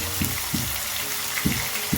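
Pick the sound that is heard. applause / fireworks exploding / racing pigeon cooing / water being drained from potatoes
water being drained from potatoes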